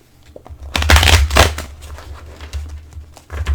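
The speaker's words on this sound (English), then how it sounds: "One more shuffle. I'm gonna do it upside down," A deck of tarot cards being shuffled by hand, a loud burst of riffling card flutter in the middle of the clip, then softer sporadic flicks and taps, close to the microphone with no talking.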